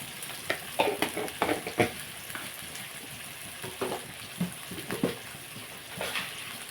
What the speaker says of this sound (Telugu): ఉల్లిపాయ మొత్తం మగ్గుతుందండి.